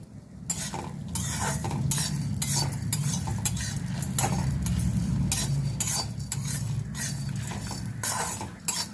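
Urad dal and peanuts fry in a pan with a continuous sizzle, broken by frequent scraping and clinks of a spatula stirring against the metal.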